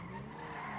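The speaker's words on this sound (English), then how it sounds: "I'm trying to drift." A brief, sustained video-game tire screech from a car drifting, with a steady engine drone underneath.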